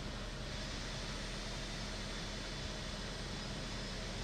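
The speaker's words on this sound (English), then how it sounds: "I've still got that jet sound" Steady jet engine roar in Microsoft Flight Simulator 2024, heard from a helicopter near Page Municipal airport, a constant broad rushing hiss that holds level throughout with no voices.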